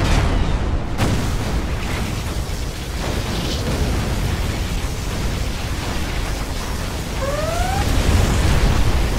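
Particle cannon superweapon blast from Command & Conquer Generals: a loud, sustained roar of dense rushing noise that swells sharply around the first second and rumbles on steadily, with a few faint rising tones near the end.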